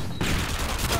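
An MG4 light machine gun firing explosive rounds in Call of Duty Modern Warfare 2 sets off a brief, dense crackle of rapid shots and blasts, loud and close.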